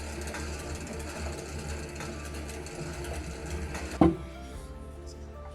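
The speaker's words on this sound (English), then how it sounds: "you can just thread your bobbin and get going. It doesn't take very long to fill up the bobbin." Antique treadle sewing machine winding a bobbin, a steady mechanical whirring hum with faint rhythmic clatter, moderately quiet, ending in a single sharp clunk before a softer tail.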